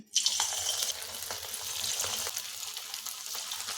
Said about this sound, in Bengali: এখন এটা পকোড়ার মতো ভেজে নিচ্ছি